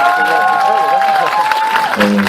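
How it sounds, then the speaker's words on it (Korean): Applause of encouragement from a film event audience rises behind a tonal, voice-like foreground sound, the clapping a sustained busy texture through the short moment. "격려의 박수 한 번만 쳐주시면"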